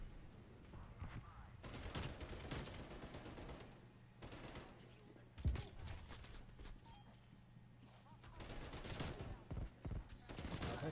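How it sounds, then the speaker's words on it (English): Aircraft strafe-run gunfire from a Nuketown shooter video game: dense bursts of rapid automatic fire rolling through the clip with a sharp blast near the middle, loud and continuous over steady background noise. "Calling the strafe run."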